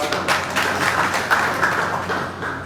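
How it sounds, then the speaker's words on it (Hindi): Audience applause at a political party meeting in a guest house hall, a moderate ongoing patter of clapping with slight surges, heard alone without speech. "जोरदार तालियों से इनका"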